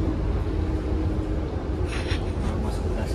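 Inside the economy class of the Argo Cheribon train travelling from Jakarta, a constant low rumble of the carriage with faint rattles, and a few soft breathy sounds near the end.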